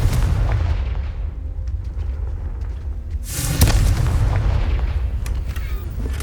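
A Confringo spell explosion in the Hogwarts Legacy video game bursts loudly at mid-clip, a sharp crack then a booming roar set against a steady low rumble of game ambience.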